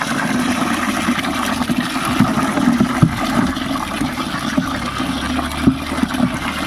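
Water pours and splashes steadily into a container of oil cake, a continuous wet rushing with a few louder gurgles, close by and with no voices.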